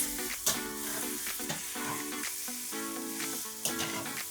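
A kilo of chicken with red chili powder and other spices is tossed over a high flame, making a constant loud sizzle with repeated scraping and clinking stir strokes across the pan.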